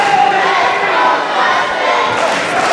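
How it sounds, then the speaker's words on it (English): A wrestling event crowd in an arena, a dense roar of cheering and chanting voices filling the space continuously, loud and sustained with a commentator's voice partly mixed in. "Crowd firmly behind Just in Kase once again"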